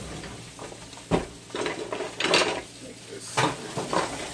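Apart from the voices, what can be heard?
flipping baked chicken pieces on a grill in a pan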